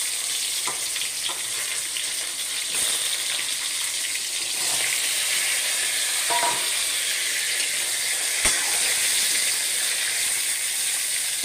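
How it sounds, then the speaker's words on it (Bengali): Sliced bitter gourd sizzles and spits in hot oil in a pan, a steady bright frying hiss that fills the whole stretch with a few faint stirring clicks and no talking. "তিতা করলাটি লাল লাল করে ভাজুন"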